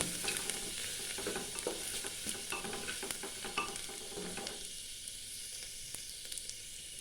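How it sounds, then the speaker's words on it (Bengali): Moong dal for a radish dal crackles in a pan after a spice tempering while being stirred, with quick scraping and rattling of the grains in a dense burst that thins out after a few seconds. "মুগ ডাল দিয়ে একটু ভাজা ভাজা করতে হবে যতক্ষণ না সুগন্ধ বেরোচ্ছে"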